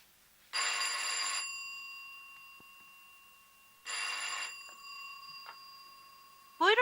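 A telephone rings through the earpiece while a call is being placed: two rings of about a second each, separated by a long pause, faint and clean, with the start of a third ring at the end.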